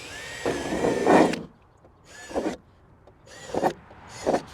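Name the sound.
drill boring hole in center of gutter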